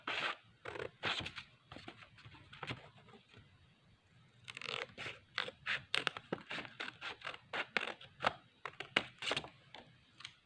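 Scissors cut around a paper circle diagram in a run of quick crisp snips, sparse at first and then dense and rhythmic, close but fairly quiet.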